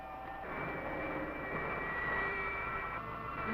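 A spaceship engine roars with steady thrust in a vintage science-fiction film. The dense, jet-like rush is loud and continuous, swelling slightly and holding with no speech over it.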